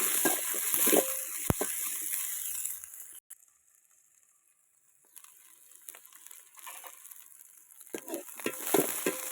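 Chillies and onions sizzle and crackle in a hot pan, loud at first, then dropping almost silent for a couple of seconds before the frying hiss and stirring clatter return.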